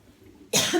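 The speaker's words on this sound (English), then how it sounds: "Excuse me for the coughing." A single short cough bursts out suddenly after a quiet moment, close and fairly loud.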